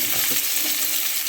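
Chopped green chili frying in mustard oil with whole cumin and chopped onion, a dense, steady sizzle filling the short moment, loud and close with no voices.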